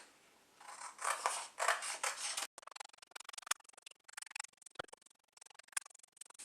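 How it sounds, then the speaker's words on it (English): Scissors cutting paper along traced lines: a few long, rustling snips, then a quicker run of short, crisp clicks, close and alone. "Next step is to cut along all the solid black lines."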